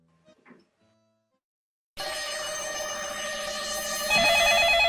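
A telephone rings loudly and steadily after a couple of seconds of near silence broken by faint movement, the electronic ring tone holding close and continuous to the end.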